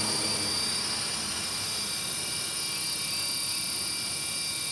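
A radio-controlled helicopter hovers and flies forward and backward outdoors, its rotor and motor giving a steady, loud, high whine with a buzzing drone that holds level throughout, with no voices.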